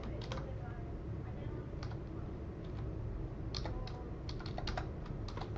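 Typing on a computer keyboard, a close series of clicky keystrokes in irregular bursts over a faint background hum.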